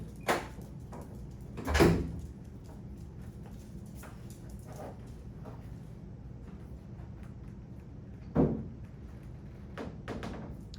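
Hood of a Jeep TJ with the 4.0-litre inline six being opened, giving a few muffled knocks and clunks, two louder thumps stand out against a low background rumble.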